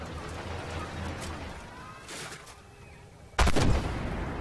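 A T-64 tank's main cannon fires in Armored Warfare, with a sudden loud blast near the end after quieter distant rumbles and shots.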